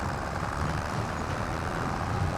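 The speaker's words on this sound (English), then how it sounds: "because I think this tractor is really struggling." A struggling tractor engine in the video game Farming Simulator 25 drones in a steady, heavy low rumble, laboring continuously at moderate volume with no talk.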